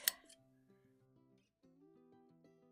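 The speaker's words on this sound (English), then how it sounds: "I just prefer to chop it with a pair of scissors" Scissors cut fabric for a log cabin quilt block, a sharp snip at the start, followed by faint quiet handling sounds close by with no speech.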